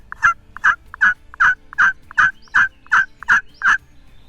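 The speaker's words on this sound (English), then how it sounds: "There's a bird gobbling diagonal right there." Wild turkey gobbler sounding off in a rapid series of about ten rattling gobble notes at a steady rhythm, fairly clear at a moderate distance, with no talk over it.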